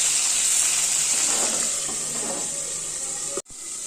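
Fish heads frying in hot oil in a pan, a steady broad hiss and sizzle that continues evenly, briefly cut off near the end before resuming.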